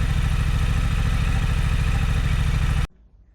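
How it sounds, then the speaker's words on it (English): A 2025 Honda CB750 motorcycle idles up close with a steady rhythmic thrum and clatter, then cuts off abruptly, leaving faint background noise. "The first thing we're going to do is run the bike on idle for about 5 minutes to warm it up."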